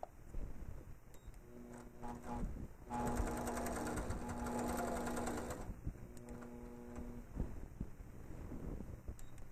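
An APQS longarm sewing machine quilting binding onto a quilt, its needle running in a fast, steady mechanical patter that swells louder for a few seconds in the middle, near and with no talking.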